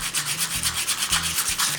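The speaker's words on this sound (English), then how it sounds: "going to go ahead and sand with the 180 all along the inside here" Rhythmic hand sanding of an aluminum wheel with 180-grit sandpaper, a rapid back-and-forth rubbing hiss repeating evenly, close by with no voices.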